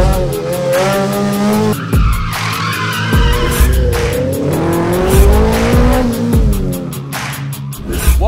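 Race cars at a national slalom motorsport round in a Robinson's Antipolo parking lot, loud and close: repeated tire squeals and skids over revving engines, with rapid pitch sweeps as the cars swing through the cones.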